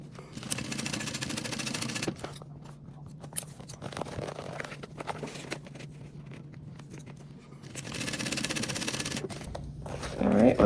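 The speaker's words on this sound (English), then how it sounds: "We're gonna sew across these at 3/8 of an inch" A sewing machine stitches across the boxed corners of a small tote bag lining, running in two bursts at the start and near the end with quieter handling and shuffling of fabric in between.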